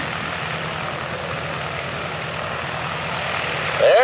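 A Douglas DC-3, the Flagship Detroit, taxis at an air show. A steady droning piston-engine and propeller roar runs throughout, fairly loud and swelling slightly toward the end as it draws nearer.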